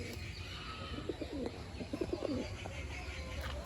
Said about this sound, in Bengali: পায়রা দুটো দেখছেন